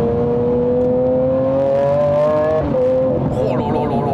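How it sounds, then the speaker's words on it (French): A Lamborghini Aventador SV engine revving hard and climbing through violent gear shifts, a loud, close, rising howl that drops sharply at each upshift, with an excited voice faintly underneath. "La violence des passages de rapport."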